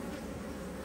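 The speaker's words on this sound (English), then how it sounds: "And all the bees are accumulating around her, so it's a good sign." Honey bees cluster around their queen inside a hive, a dense steady buzzing hum filling the short moment, close and even with no talk.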